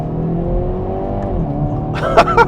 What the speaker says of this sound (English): All right, we're flooring it right out the gate.